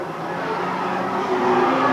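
Race cars with Higman chassis lapping the Cowdenbeath Racewall oval during a stock car race, a continuous loud engine roar from a pack of cars that swells slightly toward the end, with no talk over it.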